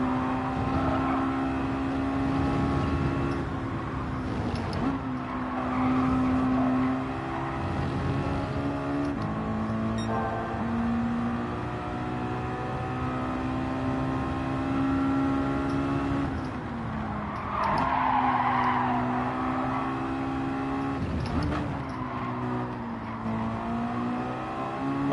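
A race car engine in Gran Turismo 7 drones steadily and loudly, its pitch rising and falling as it shifts and revs, with a brief harsher burst midway that may be tyres scrabbling.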